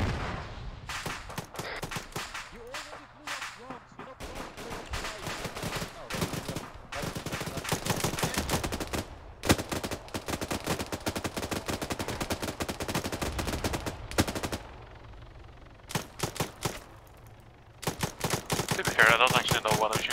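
Gunfire in the video game Arma: rapid bursts of sharp shots, some in machine-gun strings, rattle on and off with short pauses between volleys, with occasional voices mixed in.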